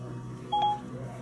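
A single short dialing tone from a phone call placed through Apple CarPlay in a 2016 Chevy Malibu, a clear electronic beep lasting a fraction of a second over a low steady cabin hum.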